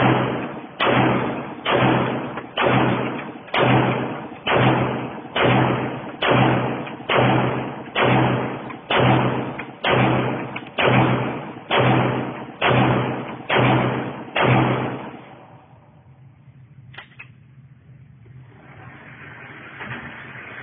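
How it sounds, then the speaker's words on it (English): A Glock 17 9mm pistol fires about fifteen evenly spaced, loud shots in a steady string at an outdoor range, then quiet background noise follows. "about to try out these Dead Ringer Snake Eyes Glock sights on a Glock 17 9mm. This is my first time shooting these sights."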